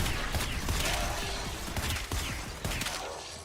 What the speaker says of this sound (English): Why would you keep spamming grenades?